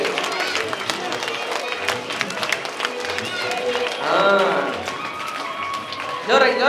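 At a yoga camp, participants run in place while clapping, giving a crowded patter of hands and footfalls with an instructor shouting over the group; a louder burst of voice comes near the end.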